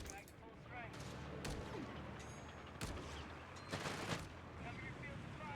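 Machine gun and rifle fire in the strategy video game Company of Heroes 3 crackles in scattered sharp bursts over a dense rumbling battle bed, with a few louder isolated cracks.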